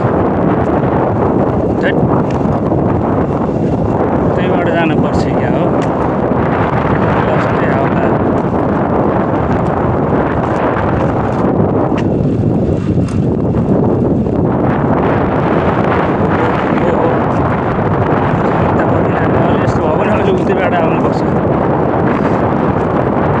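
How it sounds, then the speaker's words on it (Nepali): Strong wind buffets the microphone while cycling slowly in the UAE, a continuous loud rumbling roar with gusty swells, and a person speaks briefly over it. "आज बढी हावा रहेछ, अस्ति त यस्तो थिएन।"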